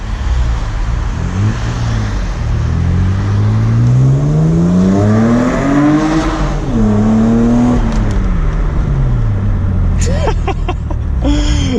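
A V6 Toyota MR2 engine revs up and down in a rising, falling drone with a hollow, echoing roar, loud and steady throughout, inside a tunnel.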